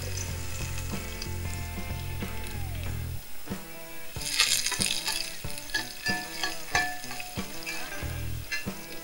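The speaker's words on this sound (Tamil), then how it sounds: "சீரகம் பொரிச்சுட்டு அதில் வெங்காயம் கொஞ்சம் போட்டால் போதும்." Cumin seeds and onion frying in oil for a mutton leg soup, a steady crackling sizzle with busy stirring and clinks of a utensil against the pan, fairly close and alone without talk.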